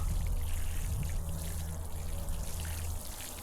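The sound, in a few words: watering garden plants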